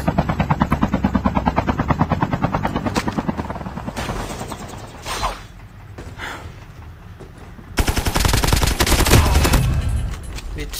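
In a video game, a helicopter's rotor chop thuds along under bursts of rapid gunfire, and the loud shooting swells near the end as the chopper is destroyed.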